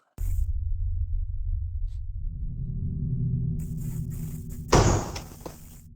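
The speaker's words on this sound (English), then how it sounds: "It almost sounds like a cellar door being slammed, or like a hatch." A deep, sustained rumble gives way to a single loud slam-like thud near the end, then a fading resonant hum.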